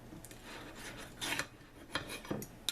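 A knife cuts into a seafood and cheese quesadilla a la Veracruz, giving faint scraping and crunching strokes, with a few sharper crisp cuts toward the end.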